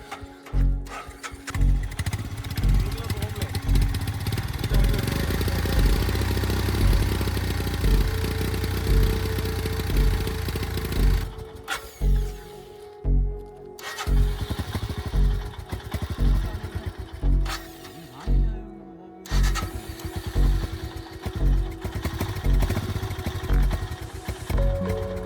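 A motorcycle in Ladakh that repeatedly fails to start. Loud, rhythmic engine pulsing with a couple of short breaks between attempts.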